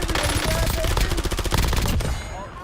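Rapid automatic gunfire with recoil in the video game Warzone, a loud continuous burst of shots that cuts off near the end.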